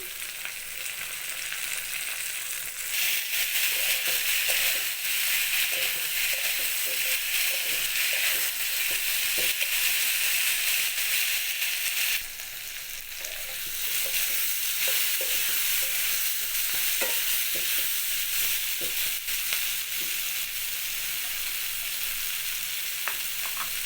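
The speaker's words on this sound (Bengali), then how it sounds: "পটল গাজর আলু ওগুলো মোটামুটি ভাজা হয়ে এসছে" Pointed gourd, carrot and potato fry with a loud, continuous sizzle while a spatula scrapes and taps the pan in irregular stirring strokes.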